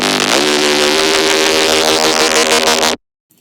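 A thick Reese bass patch built in Serum 2, a loud, dense detuned buzzing drone with a rising pitch sweep near the start, sustaining alone for about three seconds before cutting off abruptly into silence.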